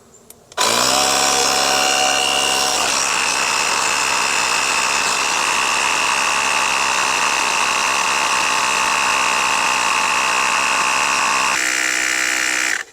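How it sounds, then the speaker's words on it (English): Andeman jump pack tire inflator running a steady, loud mechanical buzz and whine that starts abruptly, holds without pause for about twelve seconds, then cuts off, close up with no talk. "We're going to screw our inflator into the top of the pack."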